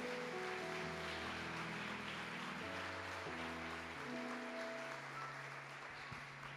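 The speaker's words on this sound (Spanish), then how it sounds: "Denle un fuerte aplauso a mi Señor" A church congregation gives a loud round of applause for the Lord after a sermon reading, dense clapping filling the room while sustained organ or keyboard chords ring underneath throughout.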